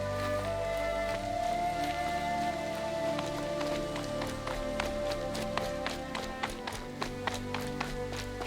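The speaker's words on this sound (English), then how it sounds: "Rain's not so bad." Steady rain patters in the video game Horizon Zero Dawn, a constant hiss with scattered sharper drop hits, under soft music tones and no talk.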